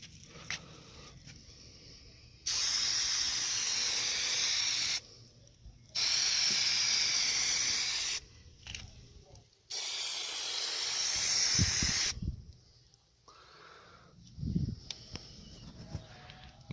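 Aerosol Plasti Dip sprayed onto a car's chrome trim as an even coat: three loud, steady hissing bursts of a few seconds each, separated by short quiet gaps, with no talking.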